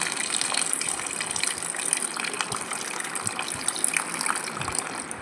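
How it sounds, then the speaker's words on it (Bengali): Water gushes steadily over four mangoes being rinsed in a kitchen for a Bengali mango recipe, a continuous close splashing wash with no talking. "আবার জল দিয়ে আমগুলো ধুয়ে নেব"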